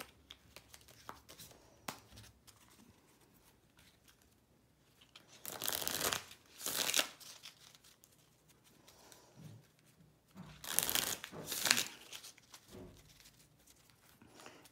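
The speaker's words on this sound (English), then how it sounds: "I will shuffle up the cards a little bit." Two loud bursts of cards being riffled and bridged, a short pause between them, over quiet handling noise.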